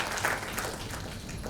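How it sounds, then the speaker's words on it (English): Brief burst of clapping from an audience at a grand final of an investment research competition, moderately distant and fairly even. "A big round of applause to the presentation party as well."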